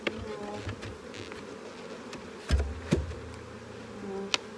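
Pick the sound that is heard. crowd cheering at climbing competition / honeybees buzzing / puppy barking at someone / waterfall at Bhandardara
honeybees buzzing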